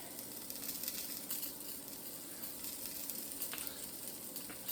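Salmon steaks fry steadily in a pan, giving a continuous, moderately loud crackling sizzle that fills the whole stretch without pause and with no voices over it.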